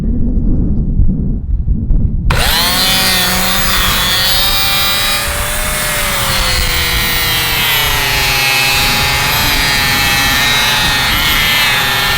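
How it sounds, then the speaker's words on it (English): A Sawmax power saw cutting through an RV roof of plywood glued over foam insulation bursts in after a brief lull, then holds a loud, continuous, close-up buzzing whine with a shifting pitch. "go at it with the Sawmax and get this top piece cut out"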